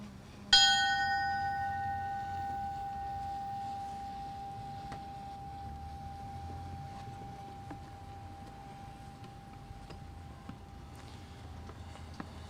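A single memorial bell struck once at a firefighter memorial ceremony, its clear ringing tone sustaining and slowly decaying over several seconds against quiet outdoor ambience.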